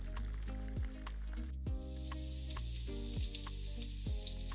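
Chopped tomato sautéing in a pan for prawn donne biryani, a steady bright sizzle that runs throughout, with a stirring utensil knocking rhythmically against the pot several times.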